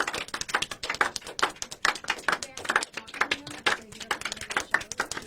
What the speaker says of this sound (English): It's a double golf clap.